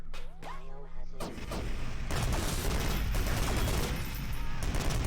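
Half-Life 2 Beta combat: a scanner fires poison gas amid heavy, continuous gunfire-like blasts and rumbling explosions that build into a loud, dense roar, with a brief lull early on.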